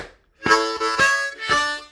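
Harmonica boogie rhythm: three strong tongue-slapped chord hits on draw 3 with a touch of draw 4, each landing with a sharp attack and ringing harmonic tone, played alone.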